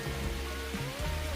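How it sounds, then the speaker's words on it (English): Steady rain falling outdoors on a farm while taro is being bundled for market, a continuous broadband patter with low rumbling underneath, no voices. "It's raining."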